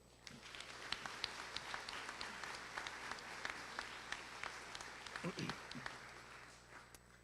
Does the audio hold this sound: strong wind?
no